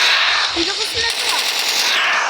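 Rapid bursts of machine gun fire from a video game boss fight, loud and close, with rattling shots overlapping a player's excited voice.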